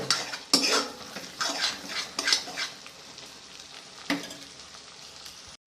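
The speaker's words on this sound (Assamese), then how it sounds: "আদা নহৰুখিনি দিয়াৰ পিছত মই ধুনীয়াকৈ মিক্সিং কৰি ল'ম" Ginger paste fries in a pan with a steady sizzle while a spoon stirs and scrapes against the metal in irregular strokes, heard up close with no talking.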